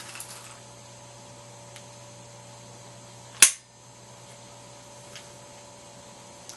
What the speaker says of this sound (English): I just dry fired one round into that monitor